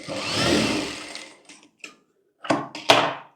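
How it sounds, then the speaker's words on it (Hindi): A sewing machine runs a seam on a blouse, one longer whirring burst followed by several short stitching spurts, close and alone. "यहाँ पर हम एक एक सिलाई कर लेंगे अंदर वाली साइड।"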